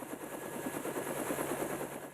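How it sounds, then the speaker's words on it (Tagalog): Helicopter in flight, its rotor thudding in a steady, fast chop with a continuous engine whine, close and even throughout, with no voices. "Sakay ng helicopter si Mang Tony na siyang mag-uwi ng bangkay ng anak sa kanilang tahanan"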